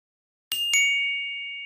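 A bright notification bell dings twice in quick succession, the second chime ringing on with a long, clear sustained tone, loud and alone with no talking.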